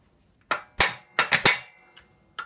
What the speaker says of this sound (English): So I'm going to drift this out now.